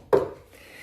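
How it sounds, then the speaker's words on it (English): A single dull knock from inside a wooden furniture piece, short and hollow with a quick fade, fairly quiet in a still room. "But I would just hear a knock, and it's from the inside"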